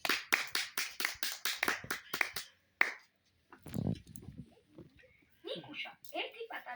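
A child's small hands clap in a quick rhythmic run of about a dozen crisp, close claps, followed by a pause, one more clap, and then a few words from a child.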